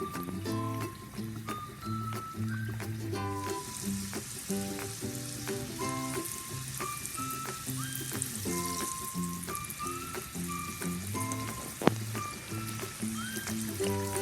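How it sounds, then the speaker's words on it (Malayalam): Ramadan snacks (iftar-style sweets in a rice-flour batter) dropped one by one into hot vegetable oil, frying with a steady loud sizzle and crackle throughout, with a short sharp clink near the end. "ഓരോന്നായിട്ട് എണ്ണയിലോട്ടിട്ട് ഫ്രൈ ചെയ്തെടുക്കാം."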